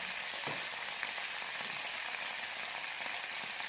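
A splash of water hits a hot pan while stir-frying snow peas with vegetarian shrimp and egg, giving a steady, dense sizzle and hiss that runs evenly throughout, with faint scattered crackles and no voices.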